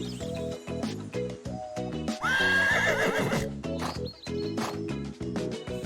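A horse whinnies over a bright, busy children's cartoon music bed, the neigh rising clearly in the middle and fading into the tune, with a few light hoof-like clip-clops around it.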